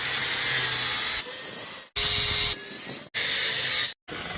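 Power-tool grinding flattens the welds on a hand-made, water-pressure hydroformed 2-stroke exhaust pipe, running in steady bursts with brief cut-offs between passes, loud and close with no talk.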